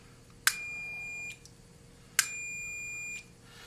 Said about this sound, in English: my meter has an audible beep, so you'll be able to hear it at least.